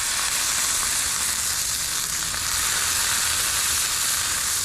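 Tuna searing on a Blackstone griddle gives a loud, steady, close-up sizzle of broad hissing that holds unbroken throughout with no talking.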